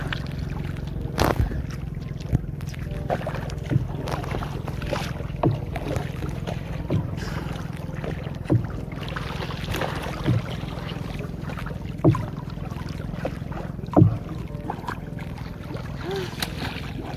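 A small boat moves on water during an island outing, giving a steady wash of water and engine-like rumble with occasional sharp knocks and splashes, close and continuous, with no clear talk.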